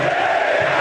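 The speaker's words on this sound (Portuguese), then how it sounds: "a fiel torcida corintiana canta alto no Pacaembu" Corinthians supporters sing loudly in the stands at Pacaembu stadium during a Copa Libertadores 2012 match, a dense, steady roar of massed voices in a brief burst.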